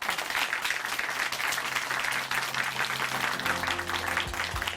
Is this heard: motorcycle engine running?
no